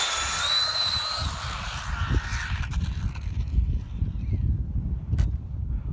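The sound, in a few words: Traxxas Slash RC car motor under throttle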